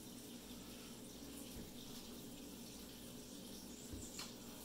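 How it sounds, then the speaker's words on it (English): Onion rings deep-frying in hot oil give a faint, steady bubbling hiss throughout, with a few soft pops and no voices. "It's hot and it's sizzling, just like that."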